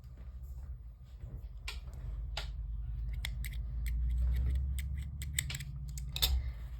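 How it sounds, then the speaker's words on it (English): Scissors snipping through yarn on a crocheted mushroom figure, a string of crisp metallic cuts and clicks in irregular bursts, close-up over a soft low background rumble. "and then cut the yarn"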